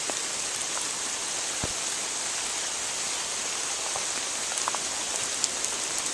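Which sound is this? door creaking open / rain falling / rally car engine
rain falling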